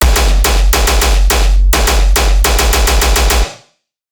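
Heavy tearout-style synthesized gun sample for bass music, a rapid series of loud, distorted machine-gun bursts with a booming low end, running in two clusters before cutting off abruptly.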